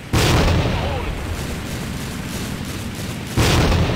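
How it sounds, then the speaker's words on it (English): Grenade blasts in Tactical Ops, a loud burst at the start and another near the end, with a continuous noisy rumble between. "I'm gonna nade high bridge from T side"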